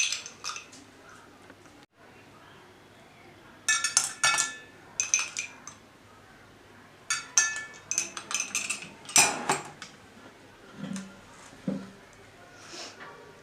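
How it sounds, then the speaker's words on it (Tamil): Ice pieces dropped into a glass for carrot juice, giving several bursts of bright clinks and knocks with quiet gaps between them, close up and moderately soft. "ஐஸ் பீஸ் போட்டுக்கோங்க."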